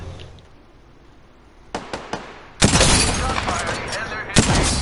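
Gunfire in a first-person shooter: a couple of sharp isolated shots, then a loud sustained burst of rapid fire with a brief break and another volley, close and dominant.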